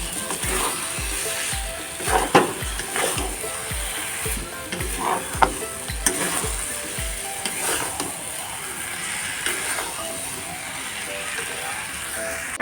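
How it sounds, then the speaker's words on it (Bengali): Suji upma with tomato frying and being stirred in a pan, giving a continuous sizzle under a steady run of soft spoon knocks and scrapes against the pan, close and moderately loud. "এটাকে আবার সুন্দর করে নাড়াতে হবে, একদম ঝরঝরে হবে"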